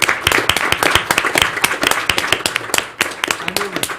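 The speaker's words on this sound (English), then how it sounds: "why don't we all give your parents a round of applause" A crowd claps in a burst of applause, dense and irregular, with a few voices calling out over it.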